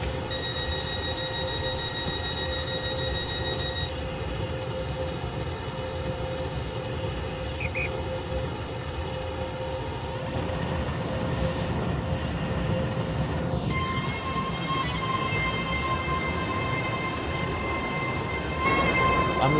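A class 801/802 IET train runs in the Roblox game SCR, giving a steady simulated traction hum and rolling drone with shifting tonal whines, loud and continuous throughout.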